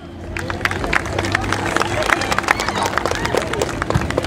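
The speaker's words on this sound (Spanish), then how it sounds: "Fuerte las palmas, por favor, para los dos chicos" An audience at an outdoor dance academy presentation in a park claps steadily for two boys, with sharp hand claps scattered over a continuous murmur of crowd chatter.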